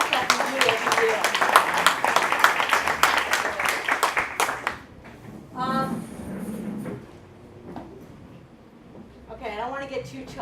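An audience claps loudly and steadily for the walkers at the HECH Housing with Love charity walk, then the clapping cuts off and a voice speaks briefly in a quieter space.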